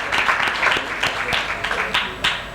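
An audience at an awards event gives a round of hand clapping, a lively mix of distinct claps in an uneven rhythm with a faint voice now and then.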